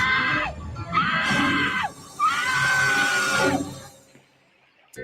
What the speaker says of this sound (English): Oh, her scream was hilarious.